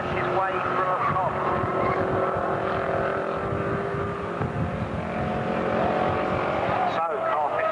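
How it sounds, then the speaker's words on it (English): Race cars roar past at Silverstone in a 1994 saloon race, among them a rough-running Metro, with loud continuous engine noise and passing revs under a commentator's voice. "A very, very sick-sounding Metro there, but it's Guy Sankey."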